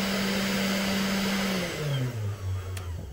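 Genmitsu 4040 Pro CNC router spindle with a cooling shroud, a steady high whine that winds down in falling pitch as it is switched off, loud and close.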